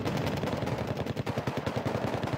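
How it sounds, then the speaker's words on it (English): Very heavy artillery shelling in the video game Wargame, heard as a rapid run of sharp, dense blasts firing in quick succession, loud and without talk. "trying to shell my airborne with his very heavy artillery."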